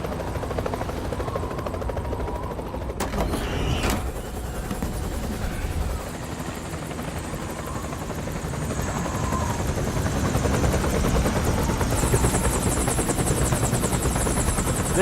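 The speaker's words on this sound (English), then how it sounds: "This time we're going in by chopper." A helicopter in the video game Metal Gear Solid 4 flies with a steady, loud rotor drone filling the whole clip, with a brief sharp burst partway through and a rising high whine near the end.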